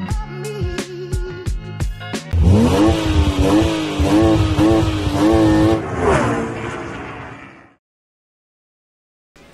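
A BMW 430i F32 coupé, phase 2, on a test drive first gives a few quick revs. Then it accelerates hard, its loud engine climbing through the gears with rising tones, before the sound cuts off into silence.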